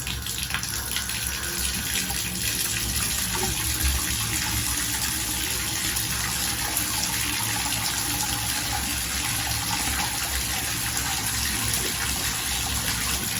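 Faucet water pours in a steady stream into a bathtub drain, a constant close hiss and rush that holds evenly throughout with no talking.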